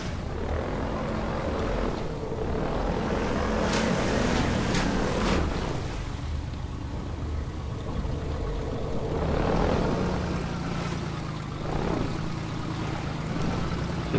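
Helicopter from the video game Half-Life 2, a steady loud rotor and engine drone that swells and fades across the scene with broadband rushing noise.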